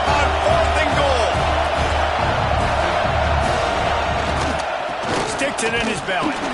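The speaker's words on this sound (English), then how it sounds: "This crowd, so loud, full throat on 4th and goal." A loud stadium crowd roars steadily at a fourth-and-goal stand in the CFB26 college football video game, with a dense wash of cheering that dips and swells toward the end, while a commentator speaks over it.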